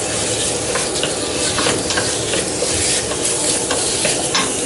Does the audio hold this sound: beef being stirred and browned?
yes